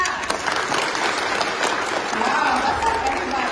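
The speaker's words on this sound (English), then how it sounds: "Like, let's do clap. I want to hear a clap." An audience claps together to cast a vote for Aung San Suu Kyi, a dense, steady burst of applause lasting a few seconds with a faint crowd murmur underneath.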